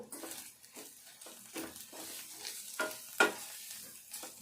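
Chili powder stirred and frying in hot oil for a dried fish curry, with soft scraping strokes and a light crackle in short irregular bursts, close by and fairly quiet.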